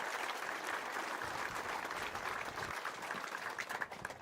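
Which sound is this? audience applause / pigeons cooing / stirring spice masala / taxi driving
audience applause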